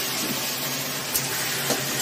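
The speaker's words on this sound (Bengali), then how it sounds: "এলাচ, দারচিনি, লবঙ্গ আর কাজু বাদাম এসব ভাজা হচ্ছে।" Cardamom, cinnamon, cloves and cashews fry in hot oil with a continuous dense sizzle and a few brief crackling pops, fairly loud and close with no voices.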